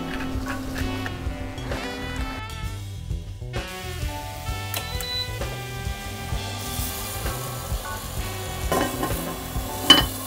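Potatoes fry in a pan for a crisp crust, giving a continuous sizzle with occasional stirring scrapes and clinks throughout, steady and close.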